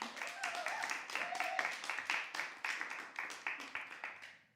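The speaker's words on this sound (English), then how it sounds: "can we have another round of applause for her?" Audience applause for a performer at a live show, a small group clapping in uneven bursts that fade out over a few seconds, with brief voice sounds mixed in.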